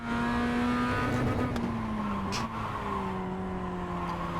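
A race car engine over-revving during a race, a loud close in-car drone holding a high steady pitch that sags slightly and shifts as the revs change, with no talk.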